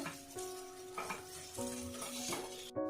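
Fried masala spice paste being stirred and mixed in an oily pan, a soft steady sizzle with scraping spoon strokes against the metal, close and alone, with light background music.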